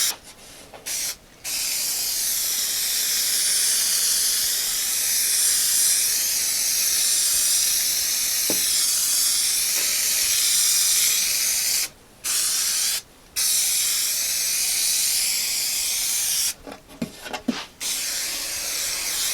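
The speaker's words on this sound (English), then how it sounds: "I sprayed glue on the plywood, and I also sprayed glue on my fabric." Spray glue hissing from an aerosol can onto plywood and fabric, steady close sustained bursts with a few short pauses and a final sputtering series of spurts.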